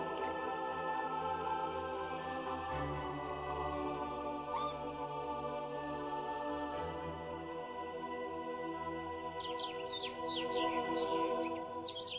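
Migratory swans call from a winter river beside a village, a flock giving repeated honking cries over steady background noise, with higher bird calls joining toward the end.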